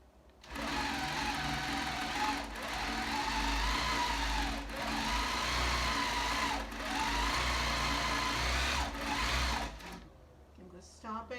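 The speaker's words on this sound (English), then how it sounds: "So this is just the test stitching that I'm doing over here" A long arm quilting machine runs test stitching in a steady, fast mechanical whir for about ten seconds, with its pitch dipping briefly a few times, then stops.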